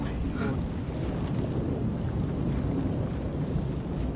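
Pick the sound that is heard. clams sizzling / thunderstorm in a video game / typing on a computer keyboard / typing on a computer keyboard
thunderstorm in a video game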